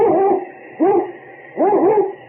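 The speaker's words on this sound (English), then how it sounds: "It's Yukon King, swiftest and strongest lead dog of the Northwest" A sled dog, the lead dog of a Northwest team, barks three times in close succession, loud and near, with no talk over it.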